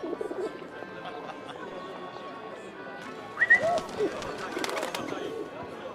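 A few soft pigeon coos sound in a Paris street scene from the video game 11-11 Memories Retold, brief and moderately near, set against quiet ambient background with footsteps or hoof-like taps.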